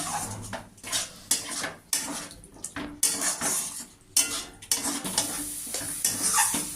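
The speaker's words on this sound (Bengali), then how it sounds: "মশলার সাথে ডালটা আমার কষানো হয়ে গেছে" Chana dal being fried with spices in a pan, stirred repeatedly with a metal spoon. Rhythmic scraping and clinking strokes sound over a light sizzle, close and fairly loud, with no voices.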